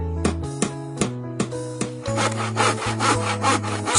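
A handsaw cuts through wood in close, rhythmic strokes, several distinct rasping pulls at first, then faster, denser back-and-forth sawing.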